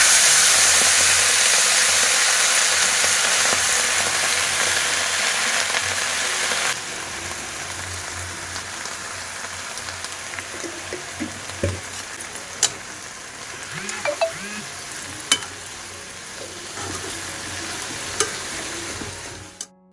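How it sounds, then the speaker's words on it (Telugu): Coriander seeds tempering in hot oil for gongura chutney give a loud, close sizzle that eases after several seconds into a quieter fry, punctuated by the clicks and scrapes of stirring. "బేసిక్ తాలింపులోనే కొన్ని ధనియాలు వేస్తాను అనమాట గోంగూర పచ్చడిలోని"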